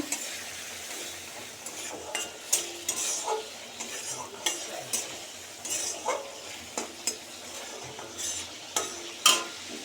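A spoon scrapes and stirs dal with potatoes in a cooking pot, giving an irregular series of clinks and scuffs over a faint simmering sizzle, close up and with no talk.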